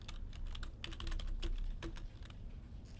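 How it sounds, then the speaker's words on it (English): Typing on a computer keyboard while working in an Excel spreadsheet, a quick irregular run of close, crisp key clicks at a soft level, alone without speech. "watch as I tab and start typing"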